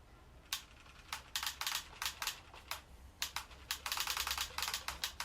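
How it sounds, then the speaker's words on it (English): A 2013 redesign Bop It XT electronic game's spin-it dial is twirled quickly, giving close, crisp plastic ratchet clicks in irregular clusters that grow denser and faster toward the end. "Can I make it click rapidly again?"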